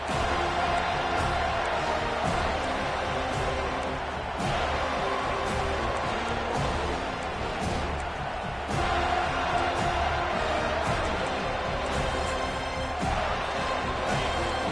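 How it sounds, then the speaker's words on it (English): Stadium crowd in the college football video game NCAA 25 roars steadily at a loud, sustained level throughout, a dense wash of cheering with no clear breaks. "Decibels rising as the crowd gets behind this defense on third down."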